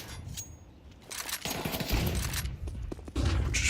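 AK rifle fire in Counter-Strike during a competitive esports match, heard as a few quick bursts of rapid shots mixed with game thumps and effects, moderately loud and close.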